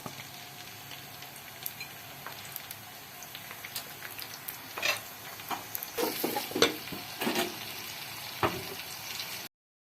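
Steamed kebabs shallow frying in two spoons of oil in a pan crackle with a soft continuous sizzle, and louder pops and spatters cluster near the middle before the sound cuts off abruptly, with no talking.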